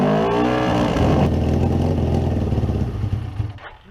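Suzuki GS550 motorcycle engine on choke, loud and close, revving unevenly with a dense harmonic rumble that rises then sags and stumbles near the end as it runs short of fuel.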